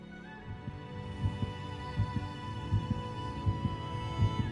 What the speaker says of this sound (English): to show your heart beating.